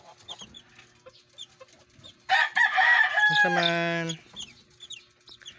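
Hen clucking near newly hatched chicks, a loud burst of harmonic clucking and calls lasting about two seconds amid quieter background sounds, with brief speech before it.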